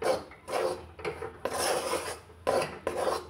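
Rice flour stirred in a pan on the stove for dudh pitha, giving scraping, rubbing strokes in uneven bursts with short pauses, close and without talk.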